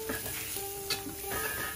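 Margarine or butter sizzles softly in a preheated frying pan while French toast is being made, a faint steady crackle with light stirring and scraping, no voices.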